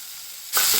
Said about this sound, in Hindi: 2 हरी मिर्च, प्याज जो है ना उसे हमें हल्का सा गोल्डन ब्राउन होने तक फ्राई करके ले लेना है